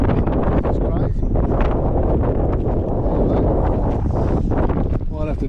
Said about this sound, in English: Man, that wind is crazy.